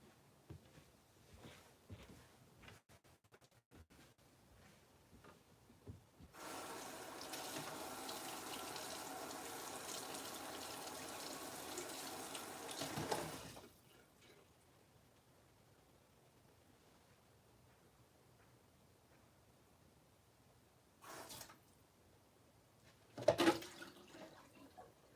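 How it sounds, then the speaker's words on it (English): Water runs from a tap under a kitchen sink for several seconds in a steady hissing gush, then stops, followed by a few faint drips and knocks in an otherwise quiet room. "Thought I heard dripping down underneath the sink. I hope it's not leaking."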